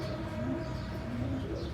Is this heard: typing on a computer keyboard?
no